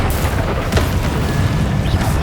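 An Incendio fire spell cast in Hogwarts Legacy bursts out as a loud, dense whoosh and boom that fills the clip with steady roaring energy.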